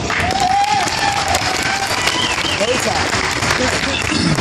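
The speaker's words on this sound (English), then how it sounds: "Let's give him a round of applause." A crowd applauding loudly at a biker rally, with dense, sustained clapping and some cheering mixed in, nearby and continuous.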